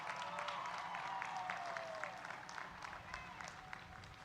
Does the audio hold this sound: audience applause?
yes